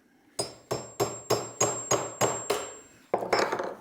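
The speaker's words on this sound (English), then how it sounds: "We can just pound it down." Eight or so sharp, evenly spaced hammer blows drive a thin piece down into a saw kerf in a woodworking vise, ringing metallically, followed by a quicker cluster of lighter taps.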